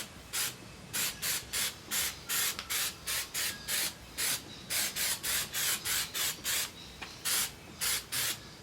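Repeated short bursts of spray paint hiss as Jeep wheels are coated black, about twenty close, evenly paced blasts with brief pauses between them and no talking.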